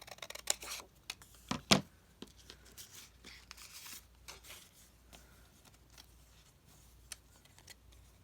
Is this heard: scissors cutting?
yes